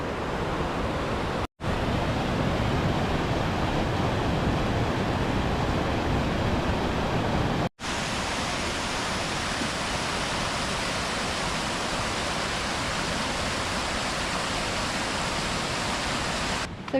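Waterfalls pour near a deep rock pool at Buttermere in the Lake District, a loud unbroken roar of falling water that fills the whole stretch, briefly cut off twice.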